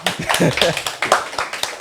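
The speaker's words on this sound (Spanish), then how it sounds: "Aplauden." A small audience applauds at the start of a podcast, with quick, sharp claps in a close, lively rhythm for a couple of seconds.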